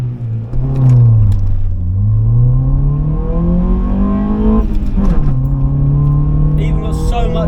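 A Honda Civic with a D-series engine revs hard and accelerates, the loud, close engine note climbing, dipping and climbing again through gear changes, droning steadily for the whole stretch.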